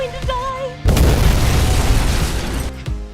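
In a Spider-Man video game cutscene, a loud explosion bursts in suddenly after a brief tonal passage, a heavy booming roar that sustains for about two seconds before fading into quieter game sound.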